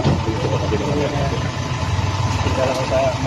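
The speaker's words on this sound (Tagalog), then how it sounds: "Ang lakas nung tunog ng makina, parang truck." A car engine runs loudly with a heavy, truck-like rumble, steady and close throughout, with voices murmuring faintly in the background.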